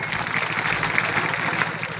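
Steady, dense applause from an audience at a January 26 gathering, clapping for journalists, a continuous close wash of many hands with no talk.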